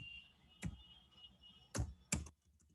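Three separate keystrokes click on a computer keyboard, close and crisp, spaced unevenly over a quiet hum while a node name is typed.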